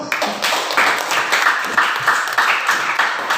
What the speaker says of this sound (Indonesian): tepuk tangan untuk Sasulu